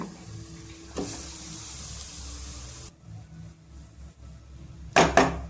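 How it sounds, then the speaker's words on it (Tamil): Garlic podi rice is stirred and tossed in a hot pan, giving a steady sizzling hiss with scraping clatters near the start and a louder burst of stirring toward the end. "இப்போ இதை நல்லா கலந்து விட்டுக்கலாங்க."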